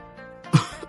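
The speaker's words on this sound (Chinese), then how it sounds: "紧接着就是一阵剧烈的咳嗽" One harsh, violent cough bursts out after a shot of liquor is downed in one gulp, short and close, preceded by a brief strained breath.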